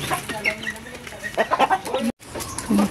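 Chickens, including small young birds and hens, let out of woven bayong bags into a large coop, clucking and squawking in scattered bursts at moderate distance, with a brief break partway through.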